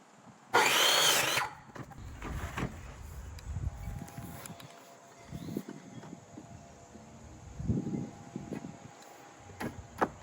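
Hand sawing of wooden boards for a garden fence, a loud burst of cutting at the start followed by quieter intermittent rasping strokes and wood handling, outdoors.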